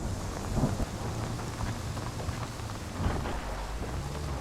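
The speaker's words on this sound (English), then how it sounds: "I'm sorry if the thunder's loud." Steady rain with low thunder rumbling through a hunting game, a constant dense wash of rainfall and a couple of swelling rolls of thunder.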